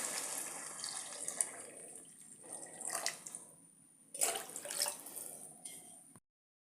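Water pours from a tap or vessel into a pan of sautéed vegetables while rava kichadi is being made, a steady splashing rush that swells and eases in bursts, then stops abruptly.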